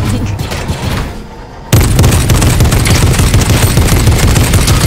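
Gunfire aimed at a player in a Darth Vader–themed game, starting abruptly as loud, dense rapid bursts that continue without pause after a quieter opening.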